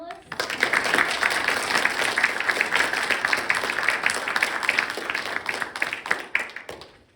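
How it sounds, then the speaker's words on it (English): Sustained audience applause for the panelists at the close of a film screening and panel discussion, steady and fairly close for several seconds before tapering off at the end. "I'd just like to give a final round of applause to our panelists."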